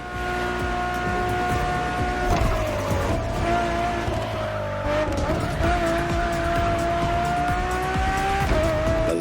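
A Ferrari supercar in The Crew Motorfest revs loudly and continuously, its engine tone climbing and dropping through gear shifts, with tire squeal and skidding mixed in close up.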